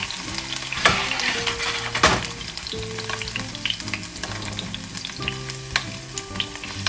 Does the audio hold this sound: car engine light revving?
no